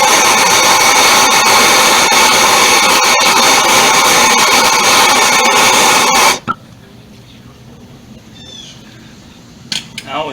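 Gas torch heating a brake line fitting on a 1976 Ford LTD, a steady loud roaring hiss for about six seconds that cuts off abruptly, leaving quiet shop ambience with a few faint clinks.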